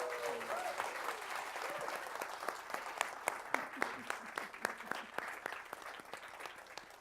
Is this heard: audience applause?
yes